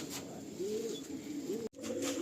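A Madrasi pigeon in a pigeon loft gives a series of soft, repeated coos up close, with a brief dropout near the end and no voices.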